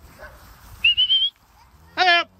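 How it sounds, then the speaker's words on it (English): A farm dog gives a single short, loud bark out in the open among livestock, just after a whistled call, with only a quiet background. "you've got a dog barking"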